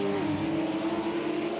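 Porsche Cayman GT4 race car in a PC racing sim at Interlagos, its engine holding a loud, steady high drone that dips slightly in pitch early on, with no voices over it.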